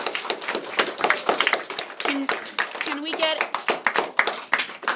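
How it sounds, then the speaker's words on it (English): A small room audience in a casual talk gives dense, steady applause for several seconds, with a few voices and cheers mixed in. "let's give Richard a big round of applause."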